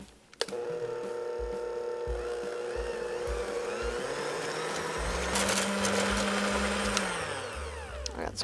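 A mixer whirls no-bake cheesecake filling in a steady, continuous motor whir that shifts pitch partway through, loud and close with no talking.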